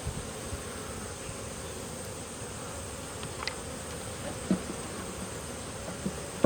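Honey bees buzzing at an open hive during an autumn inspection, a constant soft swarm drone with a few bees passing near, occasional light clicks of frames.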